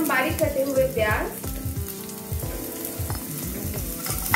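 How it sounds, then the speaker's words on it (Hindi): Finely chopped onions sauté in a pan, a bright frying sizzle under rhythmic stirring thumps and scrapes that repeat steadily, with a brief voice-like tone early on. "फिर उसमें डालेंगे हम बारीक कटे हुए प्याज"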